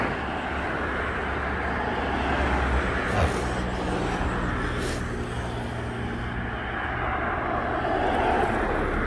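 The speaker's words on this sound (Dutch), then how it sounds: "Er komt heel veel auto's aan" Cars passing on a road: a steady, moderately loud traffic roar with a vehicle swelling and fading by partway through, heard from the roadside.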